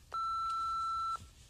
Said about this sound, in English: Do your thing when you hear the beep.